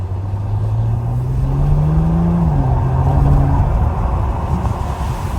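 A 608 hp car engine runs loud and close, its deep drone rising steadily in pitch over a couple of seconds before dropping and settling into a throbbing rumble, with no speech.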